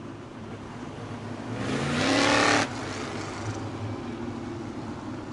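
A modified-division race car on a Merrittville dirt track roars past during a heat race, its engine swelling loudly for about a second and then cutting off sharply, over a steady distant drone of other cars.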